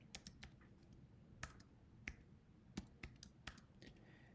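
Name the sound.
typing on a computer keyboard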